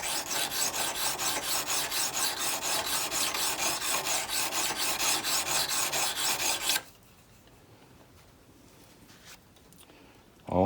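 A hand file rasps steadily across a rust-pitted antique edge tool, sharpening its edges in quick rhythmic strokes for about seven seconds, then stops, leaving quiet room noise before a brief sound at the end.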